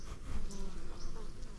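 Honeybees cluster in a big ball around the hive, giving off a soft, close buzzing hum that stays steady over a brief moment.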